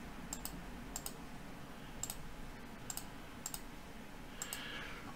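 Mouse clicks on dialog tabs in the GIMP image editor: about six faint, crisp clicks spaced roughly a second apart over a quiet background hiss, with no talk.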